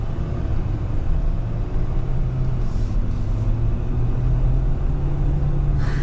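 A 2021 Ford F-250 Black Widow pickup pulls away on a city street, its engine a heavy, steady low rumble heard from inside the cab, continuous and unbroken throughout.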